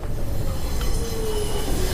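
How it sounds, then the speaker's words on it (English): A train glides up to a platform in the video game 428 Shibuya Scramble, with steady rumbling wheels and a drawn-out metallic squeal of braking, loud and continuous throughout. "The train glided up to the platform."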